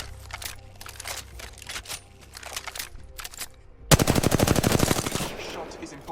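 Automatic weapon gunfire in the video game Apex Legends: scattered faint shots and clicks first, then a sudden loud sustained burst of rapid evenly spaced rounds that fades into a softer rattle.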